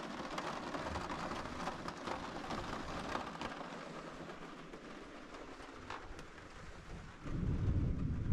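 Continuous rain patters on the thin roof of an Airstream motorhome at night, a broad steady wash with scattered louder drops, swelling into a heavier low rumble near the end.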